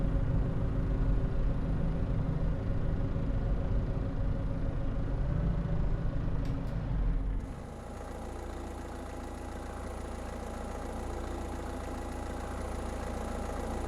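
A farm tractor engine runs steadily during driving in a farming simulation game, a constant low rumbling drone that shifts in tone about halfway through and continues at a slightly lower level, with no speech.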